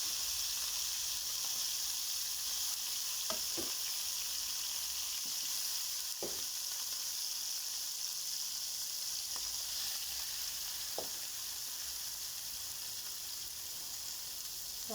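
Vegetables and gizzard for fried rice fry in a pan with a steady, close sizzle, broken now and then by soft clicks and scrapes of stirring.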